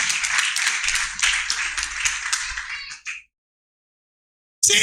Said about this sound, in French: acclame très fort, acclame très fort.